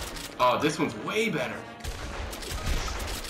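Shotgun blasts from a small shotgun in a zombie game, an excited voice speaking over them at first, then a quick run of loud shots and clattering impacts.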